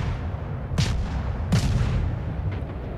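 Two heavy warship cannon blasts in World of Warships about a second apart, each a sharp boom over a constant low rumble of background noise.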